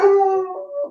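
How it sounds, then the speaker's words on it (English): A dog howling close by, one sustained rising-and-falling tonal howl lasting about a second, loud and without other sounds. "that's my dog"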